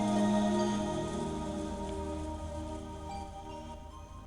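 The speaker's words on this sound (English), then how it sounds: "As we listened to the sound of the rain" Steady rainfall in a video game, a continuous wash of rain on surfaces with a tonal music layer sustained underneath, loud at first and easing slightly over the seconds.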